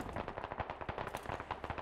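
Rapid bursts of gunfire from the online military shooter Squad, a dense run of loud cracks and short volleys in quick succession, with close and distant shots overlapping.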